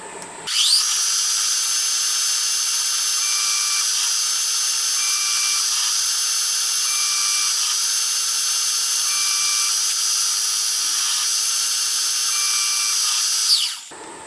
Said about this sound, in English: So I'll drill this one here.